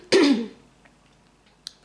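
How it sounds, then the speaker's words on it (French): One short, close throat clearing opens the moment, followed by near silence and a faint click. "je prends le temps de me racler la gorge"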